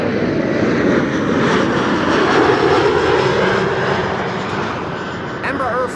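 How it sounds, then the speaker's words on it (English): An Embraer 175 airliner arriving at Amsterdam Schiphol from Brussels gives a loud, steady broadband jet roar that holds throughout and eases slightly near the end, with a person talking over it. "This was an Embraer 175 returning from Brussels, all the way from Brussels."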